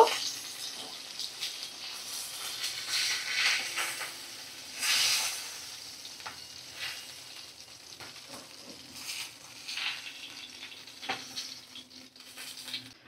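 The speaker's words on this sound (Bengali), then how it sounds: "মাছ দেখো তেল থেকে আমি তুলে নেব" Parshe (mullet) fish sizzling in frying oil, a steady crackling hiss with soft clinks and stirring noises, fairly quiet and close, with no one talking.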